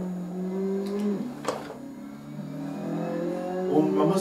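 A Ferrari's rear-mounted engine of nearly 500 horsepower drones and shifts pitch as it decelerates, then rises again, heard from inside the car on a lap, with a steady rumbling tone.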